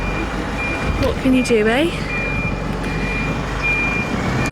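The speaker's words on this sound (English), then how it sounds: "Just waiting for a lorry to move" A lorry's reversing alarm gives a steady, evenly spaced series of high beeps outdoors, continuing while someone speaks briefly over the start.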